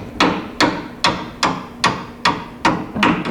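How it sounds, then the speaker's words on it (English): A brass hammer striking a bolt on a truck cross member, seven sharp metallic blows in an even rhythm about half a second apart, close and loud with no talking. "brass hammer 9000."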